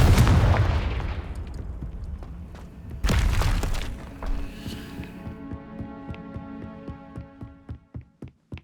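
Confringo fire-spell explosion in the video game Hogwarts Legacy: a loud booming blast that fades, a second burst, then a ringing, rhythmic crackling pulse of sharp ticks that slowly dies away.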